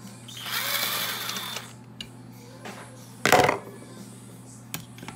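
An impact gun on a bolt of a GY6 scooter gives a loud buzzing burst early on, followed by a short sharp metallic clatter later and faint handling noises in a quiet workshop.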